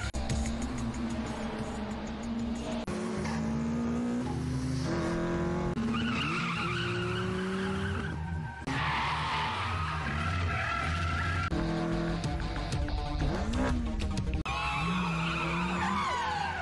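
Race cars at the start of a race, engines screaming and tyres squealing in repeated skids, loud and continuous with shifting pitch as the cars slide and accelerate.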